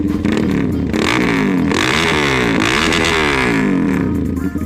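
A GPX Demon GR 200R sport bike's engine growls close by, then revs up and down in quick rising sweeps, loud and continuous throughout.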